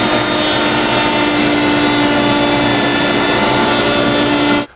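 Router table spinning a 1/4 inch slot cutting bit while cutting a rabbet in wood for a clock case back panel, a loud steady high whine with a constant tone that stops abruptly at the end.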